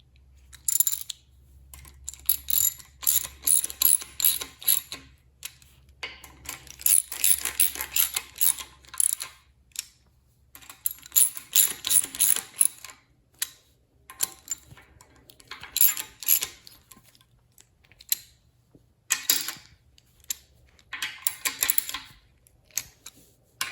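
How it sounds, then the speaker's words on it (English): Hand ratchet clicking as bolts are tightened on a 445 cubic inch Ford FE street/strip engine, repeated bursts of rapid close clicks separated by short pauses, no talk. "I'm gonna grab my ratchet and we'll get these tightened up."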